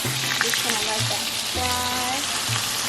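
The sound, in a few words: cubed chicken frying in a pot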